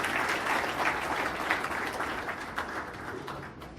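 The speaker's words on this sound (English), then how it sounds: "So let's give them a round of applause for this creation." Applause at a Bayport send-off celebration, a crowd clapping steadily at moderate volume, tapering slightly toward the end.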